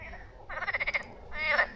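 Frog croaking close by at a fishing spot on Çatalca's pike waters: a fast pulsed rattle of about eight croaks, then after a short pause a longer, louder, harsher croak, with no talking.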